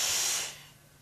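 Several men together imitate a cat's hiss with their voices, one close, breathy burst lasting about half a second that then fades away.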